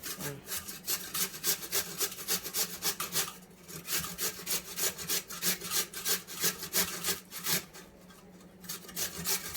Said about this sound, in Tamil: இந்த பெரிய பல்லை வந்து நம்ம கிரேட் பண்ணிக்கலாம்.